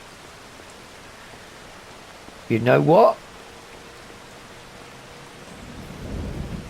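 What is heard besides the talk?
heavy rain and thunder in video game Farming Simulator 25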